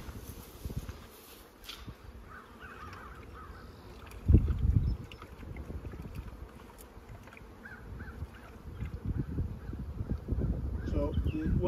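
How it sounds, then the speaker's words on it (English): Outdoor breeze rumbles steadily across a low, gusty wash of air noise, with one stronger gust buffeting midway and insects and a distant crow faintly in the background. "We got a pretty good breeze here"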